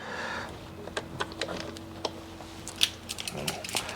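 Screws being driven by hand into an older Hoover WindTunnel S3641 canister vacuum, heard as scattered small clicks and ratcheting ticks of a screwdriver and plastic parts, close and fairly quiet with a faint steady hum beneath.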